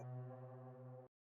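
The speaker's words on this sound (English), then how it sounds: "Almost sounds like a foghorn." A fantasy/horror sound-effect tone resembling a foghorn blares for about a second as a deep, harmonic, sustained blast, then cuts off abruptly into silence before a faint blip at the end.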